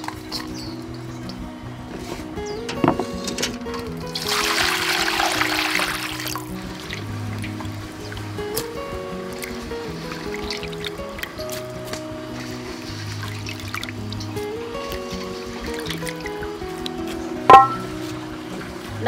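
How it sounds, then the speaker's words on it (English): River shrimp rinsed in water, with trickling and a gush of running water early on, then softer dribbling and handling sounds over a steady background hum, ending with a sharp knock. "Then I clean the river shrimp."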